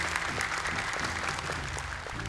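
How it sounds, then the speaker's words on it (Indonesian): A studio audience at the Hafiz Indonesia 2024 Quran memorization competition applauds the four jury members, with steady, even clapping throughout at moderate volume. "Boleh tepuk tangan untuk 4 dewan juri kita."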